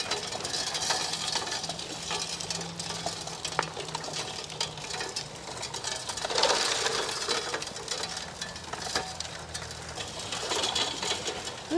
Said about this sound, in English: Trommel seems to be running really well today